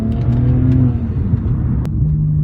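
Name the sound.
car accelerating hard in second gear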